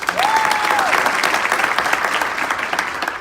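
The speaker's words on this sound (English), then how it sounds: "Give him a round of applause." Steady applause from a crowd fills the whole clip, dense clapping at a constant loud level.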